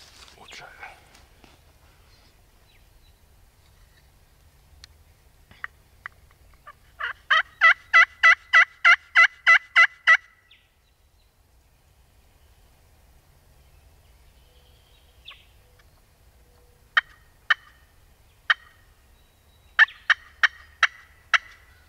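Wild turkey gobbles ring out in a rapid rolling burst of about ten notes, then a few shorter gobble bursts later, fairly distant over quiet woods.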